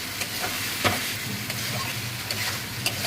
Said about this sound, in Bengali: আস্তে আস্তে এবার এটাকে ভাজবো। তেল বেরিয়ে যাচ্ছে দেখুন